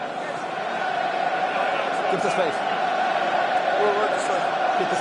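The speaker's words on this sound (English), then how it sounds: "you can hear the French crowd here" A French rugby crowd fills the stadium during France versus England with a dense, continuous roar and chanting, while a nearby voice talks over it.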